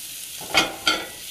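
Vegetables and ground bison in a pan for a curried vegetable dish give a steady sizzle, broken by two close scraping stirs of the utensil through the food.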